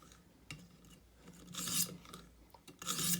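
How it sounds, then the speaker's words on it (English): Grass shears edge being refined on a 400 grit sharpening stone with forward passes, giving repeated raspy scraping strokes, two strong bursts standing out among lighter rubs, close and clear with no talking. "So I'm going to refine the edge a little bit with 400, just with forward passes"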